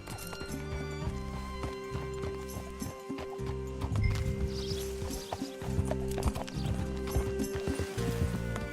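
Rhythmic clip-clop of horse hooves in Red Dead Redemption 2 trots steadily along over a busy layered background of game music and ambience, with a brief whinny.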